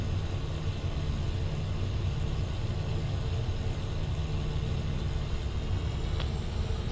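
A Stemme S12 motor glider's engine runs up in Microsoft Flight Simulator 2024, a steady close droning rumble with even intensity throughout and no talking.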